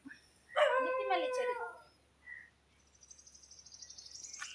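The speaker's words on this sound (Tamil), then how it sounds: "புது நாய் குலைக்குது" A dog on a farm barks close by in a short burst of yips, followed by a brief second yelp and quieter high-pitched sounds.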